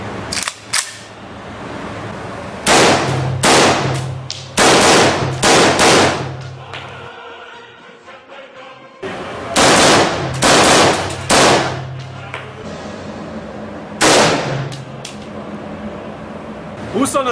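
A Saiga rifle in .223 Remington, fired one-handed like a pistol, lets off sharp loud shots in irregular clusters, some in quick succession, with someone talking between them.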